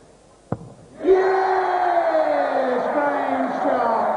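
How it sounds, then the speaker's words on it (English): Crowd at the 1993 Embassy World Darts Championship final erupting after a winning double 4, a sharp thud then a sudden loud sustained roar and cheering from a large audience. "Well, reaction from the crowd."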